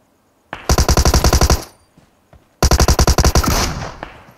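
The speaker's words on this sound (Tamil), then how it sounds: "ஐயோ ஷாட் கன்" Gunfire in the battle royale game BGMI comes as two loud, close bursts of about a dozen rapid shots each, separated by a short pause, with nobody talking.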